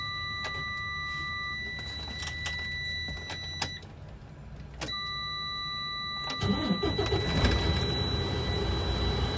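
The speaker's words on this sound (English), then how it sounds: "Then I'm going to start my truck" Truck engine cranks and catches partway through, rising into a loud low rumble after a quieter stretch of cab noise with steady electronic warning tones, ahead of an air brakes test.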